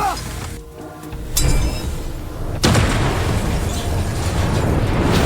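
An explosion goes off in a scene from the film A Shop for Killers season 2. It comes as sudden heavy booming bursts that then settle into a loud, sustained rumble.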